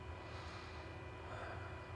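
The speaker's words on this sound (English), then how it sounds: "Looks like we got a plane coming in." An incoming airplane's engine in Microsoft Flight Simulator 2020, a faint steady drone and hum holding evenly throughout with no talk.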